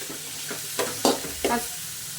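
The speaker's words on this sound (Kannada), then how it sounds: "ಪುದೀನ ಕೊತ್ತಂಬರಿ ಸೊಪ್ಪು ಆಯಿಲಲ್ಲಿ ಫ್ರೈ ಆಗಿದೆ ತರಕಾರಿ ಸೇರಿಸ್ಕೊತಾ ಇದ್ದೀನಿ" Beans, carrot and capsicum stir-fry in hot oil with mint and coriander, a close steady sizzle punctuated by a few quick scraping stirs of a spatula.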